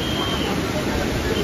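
The Indrani river waterfall flowing strongly beneath a bridge at Kundmala, a dense continuous rush of water filling the whole clip, steady and close, with no pauses.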